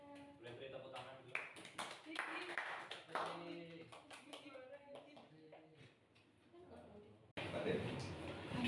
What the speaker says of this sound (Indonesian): Boleh beri tepuk tangan dulu.